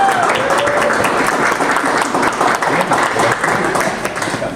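Sustained applause from an outdoor audience at a building's topping out ceremony, dense steady clapping that stays loud throughout, with a few cheers rising above it.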